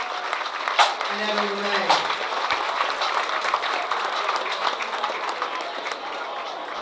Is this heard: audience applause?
yes